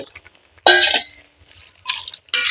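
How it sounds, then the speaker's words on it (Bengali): Onion stalks dropped into a pan of half-boiled potatoes, giving two or three brief clattering, clinking bursts of metal cookware with quiet gaps between them. "এবার এই পেঁয়াজের কলিগুলোকে এই কালি এর সঙ্গে দিয়ে দেব"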